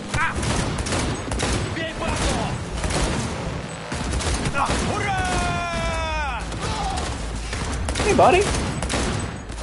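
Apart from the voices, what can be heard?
gunfire in the video game Cyberpunk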